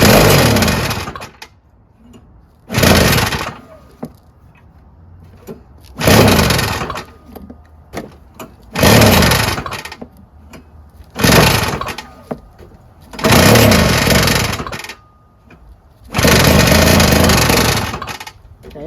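A Tecumseh 3.5HP engine on a Yard Machines single-stage snowblower runs loud and close in repeated surges of a few seconds each, dropping back to a low idle in between, as though it catches and falters.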